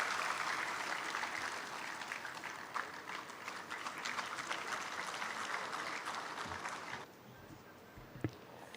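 An audience claps at an alumni meet felicitation ceremony, a steady wash of applause that thins and drops quieter near the end, with a few isolated claps standing out.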